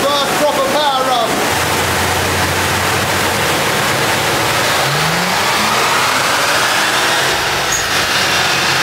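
A turbocharged car engine revs loud and steady on a dyno during a full power run, a constant roaring wash with rising tone sweeps, alone without talk.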